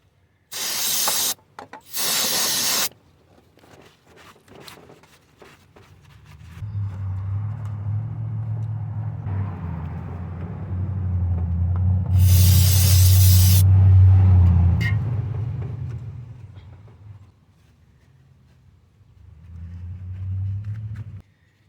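Two short bursts of hissing starter fluid sprayed from an aerosol can up close, then a long rumble of a Toyota 3.3L engine with another long spray burst over it, fading away.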